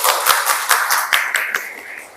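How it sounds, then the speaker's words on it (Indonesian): A small group claps for students in a classroom lesson, a short burst of fairly close, uneven hand claps that gradually thins out. "Tepuk tangannya dulu."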